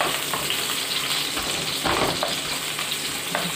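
Garlic and onion frying in a pan give a loud, steady, close sizzle with a few brief stirring knocks, no voices.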